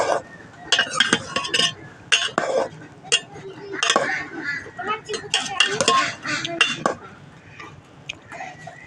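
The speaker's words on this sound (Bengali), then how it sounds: "এখানে আলু দিয়ে দিয়েছি, সিদ্ধ হচ্ছে।" Potatoes boiling in a pot on a home stove while a utensil stirs them, giving busy, irregular scrapes and metallic clinks against the pot over a low background bubbling.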